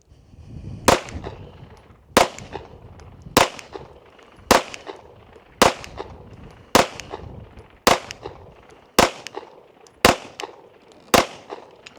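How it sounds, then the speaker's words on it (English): Rost Martin RM1C pistol fired at a target, ten sharp, loud shots at a steady pace of roughly one per second, each with a brief echo trailing off. "Let's shoot one more group and then we'll move on to shooting some steel."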